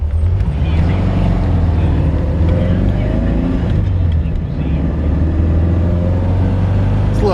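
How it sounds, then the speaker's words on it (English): A 1978 Volkswagen Beetle Convertible with a rebuilt engine idles steadily, a continuous low rumbling drone close by, with no clear start or change in pace. "You touch the key and she fires right up."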